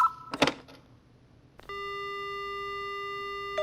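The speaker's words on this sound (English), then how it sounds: "The only sound I hear is the dial tone." In a video game, after a short clatter of handset noise, a steady telephone dial tone hums on continuously, clean and unbroken.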